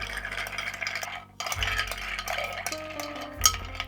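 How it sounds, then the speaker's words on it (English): A Night Orchard autumn cocktail stirred in a mixing glass, with a near, steady swirling and faint clinking of ice under a light background hum, without speech. "So give it a good stir"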